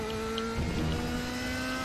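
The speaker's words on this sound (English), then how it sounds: "One of the cracking pops when you change gears, come out the back of the car, it's like pop, bang, crack" A DTM race car engine drones in the RaceRoom racing game at Zandvoort, holding a steady mid-pitched whine with a slight surge partway through. It is moderately loud, and no gear-change pops stand out.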